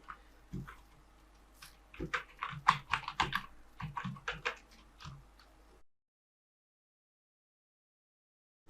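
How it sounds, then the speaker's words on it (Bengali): Fingers type an email address on a computer keyboard: quick, uneven bursts of close keystroke clicks run for about six seconds, then stop into silence. "তো আমি এখানে একটি ইমেল অ্যাড্রেস লিখে দিই।"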